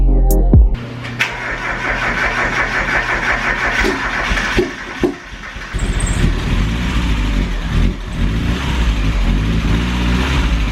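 A turbocharged Mazda Miata engine cranks briefly, fires and settles into a loud, steady idle close by, with a few sharp clicks and knocks over the running motor and no talk.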